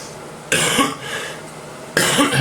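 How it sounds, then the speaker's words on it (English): Two bursts of coughing, one at the start and another near the end, close and fairly loud, with quiet room noise between them. "Jeez, I've got a cough."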